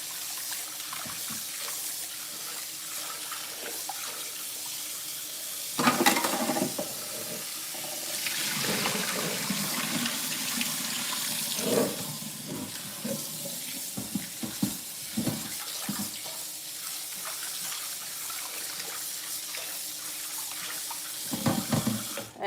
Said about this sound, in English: So let's wash our meat over here.